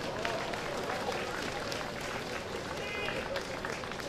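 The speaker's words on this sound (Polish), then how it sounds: "Wielkie brawa!" An audience applauds after a brass band's performance, dense steady clapping filling the hall from start to finish, fairly faint, with a voice speaking over it.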